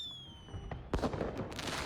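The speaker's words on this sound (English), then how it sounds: "fireworks bloom against the night sky" Fireworks go off in the night sky during a dance scene in the video game Love and Deepspace: a sharp pop near the middle, then crackling bursts over a fading whistle-like tone.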